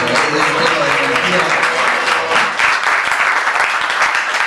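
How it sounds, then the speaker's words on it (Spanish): Loud crowd applause at a Sony freestyle rap battle round of sixteen in Río Gallegos, dense and sustained cheering clapping with some voices and shouts mixed in throughout. "aplauso para Johnny"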